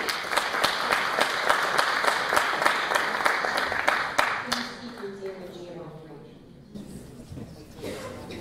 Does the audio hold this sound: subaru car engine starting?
no